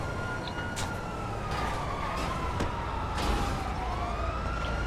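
Police siren wailing in GTA Online, a sweeping tone rising and falling continuously for about five seconds over steady traffic and engine rumble.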